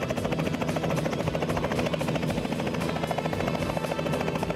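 A tourist ride helicopter at Malgund beach near Ganpatipule on the Konkan coast gives a loud, close, continuous rotor thrum and engine whine that stays steady throughout, with no talking.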